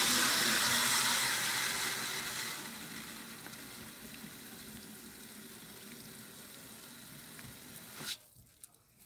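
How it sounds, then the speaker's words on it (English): Tap water pours into a jug with a steady rushing hiss that gradually softens as the jug fills, ending with a brief clunk as the flow stops. "And then I'm going to fill up my jug."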